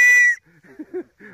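A single sharp emergency whistle is blown close by, a bright sustained shrill tone lasting a fraction of a second before cutting off, followed by faint background sounds near a river.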